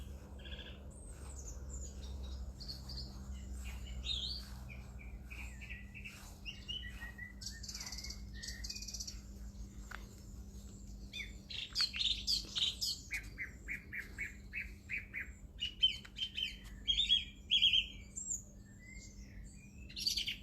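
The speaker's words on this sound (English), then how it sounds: "You can sit and listen to the bird song." Several birds sing and chirp in a peaceful meditation garden at St John's Lodge, Regent's Park, with a steady low hum beneath; the calls grow busier and brighter in the second half, overlapping trills and tweets.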